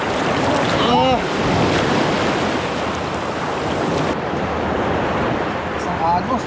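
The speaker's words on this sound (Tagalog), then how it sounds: "Lakas ng agos. Ang lakas ng agos." Strong current and waves churn at a beach shore in San Narciso, Zambales, a loud continuous wash mixed with wind buffeting the microphone, and brief voices cutting through now and then.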